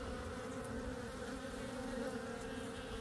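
Steady buzzing of bees, a continuous droning hum that stays even throughout with no voices.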